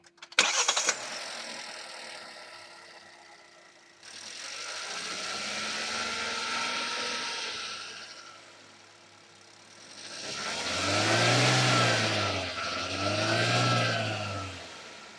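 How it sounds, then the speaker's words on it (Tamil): A 2024 Kia Sonet HTK Optional engine cranks and starts with a short burst, settles into a quiet idle, then is revved twice in rising and falling swells, heard close with no talking. "இன்ஜினை ஃபஸ்ட் நான் ஸ்டார்ட் பண்ணி காமிக்கிறேன், கொஞ்சம் ரேவ் பண்ணி காமிக்கிறேன்"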